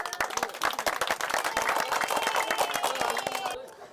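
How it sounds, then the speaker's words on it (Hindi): Game-show audience clapping for a challenger, many sharp hand claps in a brisk rhythm, loud and close, continuing for a few seconds before stopping abruptly. "इनके लिए चलिए जोरदार ताली मारिए इनके लिए"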